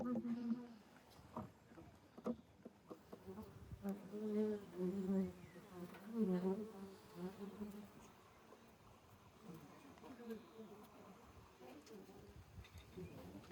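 A dense, steady buzzing of many bees close by at a wild hive on a tree branch, rising and falling in intensity, with a few faint voices mixed in.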